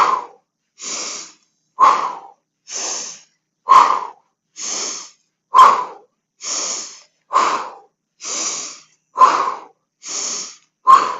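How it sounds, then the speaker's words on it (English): Deep diaphragmatic breathing during a somatic mat exercise routine: about a dozen forceful, close breaths in a steady alternating huff-and-puff rhythm, each burst clipped short with brief pauses between, and no talking. "Deep diaphragmatic breathing."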